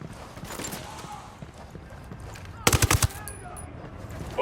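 Gunfire rings out in Ghost Recon Wildlands: after a quieter stretch of ambient game noise, a short, loud burst of rapid shots cracks out in quick succession, followed by faint high electronic tones.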